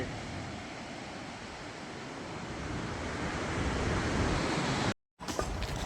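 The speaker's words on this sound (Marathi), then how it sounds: "पाहू शकता मोऱ्याचं पाणी स्पीडनी आणि त्या मोऱ्यामधून मासे पण पडतात" Loud, continuous rushing of water roaring steadily and close from the sluice gates of the full Jayakwadi earthen dam, with a brief dropout near the end before the torrent resumes.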